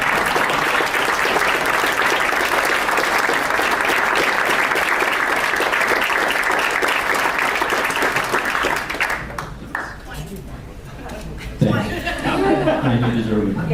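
A standing audience at a regular public meeting gives Dr. Harrington a sustained round of applause, dense steady clapping with some laughter for about nine seconds, then thinning out as voices begin talking.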